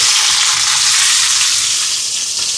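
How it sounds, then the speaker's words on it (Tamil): Mustard seeds and onions fry in hot oil with a loud, close, continuous sizzle that holds steady without talking. "இங்கே எண்ணெய் சூடாயிட்டு கடுகு சேர்க்குறேன் இது உருளைக்கிழங்குக்கு"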